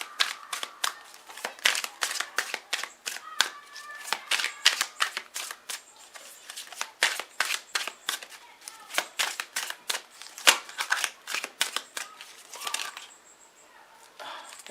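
A deck of cards is shuffled over and over, giving dense bursts of crisp riffling flutters and snaps in an uneven rhythm, close and fairly bright, with no talk.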